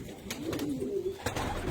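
Pigeons from a breeder's loft in Damascus coo in a low, rolling murmur, with soft repeated calls close by over a faint background hum and no talking.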